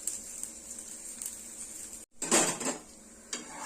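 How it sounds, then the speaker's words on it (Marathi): A rice flour snack roasts in a pan with a little oil, giving a faint steady sizzle. Midway there is a short louder burst of pan and utensil clatter, with no talking. "दोन्ही बाजूने मस्त असं आपल्याला हे खरपूस भाजून घ्यायचं आहे"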